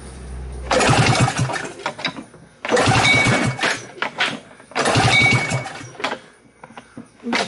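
Yamaha Bravo snowmobile engine with the choke on, cranking and catching in three loud, rough bursts of roughly two seconds each, separated by short pauses.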